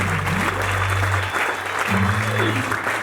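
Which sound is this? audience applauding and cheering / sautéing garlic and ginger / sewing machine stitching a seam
audience applauding and cheering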